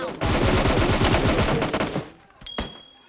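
Rapid automatic gunfire shooting at bots in a battle royale video game, a loud dense burst of repeated shots that fades out, followed by a few scattered quieter shots and a short tone.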